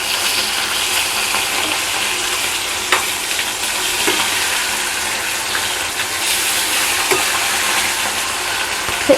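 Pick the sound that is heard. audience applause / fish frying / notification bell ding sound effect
fish frying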